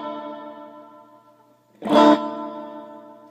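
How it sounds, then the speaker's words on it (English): A sustained electric guitar chord rings out through a digital reverb pedal with lush reverb, fading slowly, then a louder strummed chord blooms with a slight wavering modulation shimmer in its tail. "There's a minor bit of actual modulation to the reverb"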